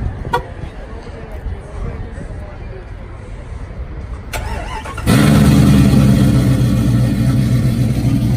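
A Jeep ZJ with long tube headers and a cam cranks on remote auto start, then catches and settles into a loud, steady rumbling idle, heard close up at an outdoor car meet after a stretch of background noise.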